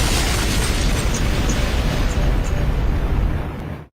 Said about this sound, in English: I've got to do the explosions